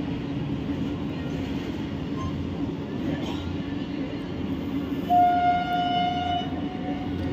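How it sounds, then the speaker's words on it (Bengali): A goods train passes a local train halted near Pakuria on the Howrah–Midnapore line, a steady low rumble of rolling wagons with a long horn tone partway through, continuous and fairly close. "মালগাড়িটা পাস হচ্ছে আরও 5 মিনিট এক্সট্রা লেট"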